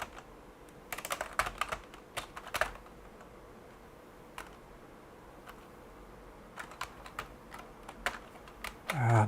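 Someone types on a computer keyboard while working on code, with sharp irregular clusters of key clicks and pauses between bursts, close and fairly loud over a quiet room.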